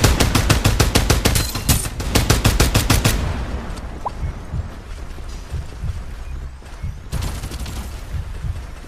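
Automatic gunfire in the video game Farlight 84, rapid bursts of loud rattling shots for about three seconds, a quieter stretch of battle noise, then another burst of fire near the end.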